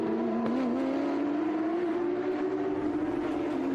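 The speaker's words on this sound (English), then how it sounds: "There's Juan Fayen, the first of our Ferraris" Ferrari race cars pass on the VIR track during a SpeedTour event, with a sustained engine drone heard from a distance that holds a steady pitch and rises slightly, continuous and without talk.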